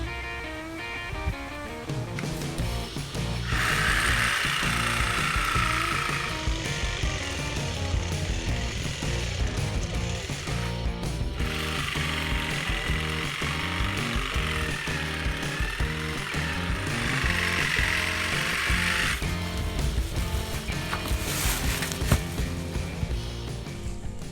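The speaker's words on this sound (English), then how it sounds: "So today we're going to use the Sawzall, which goes pretty quickly actually." A Sawzall reciprocating saw cuts through a hardy banana stalk outdoors, a rapid rattling buzz whose blade strokes grind in bursts as it bites into the fibrous stalk, close and steady, with no voices.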